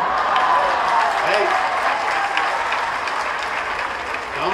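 Commencement ceremony audience bursts into sustained applause, a dense wash of clapping across a large hall that holds steady and then begins to thin toward the end.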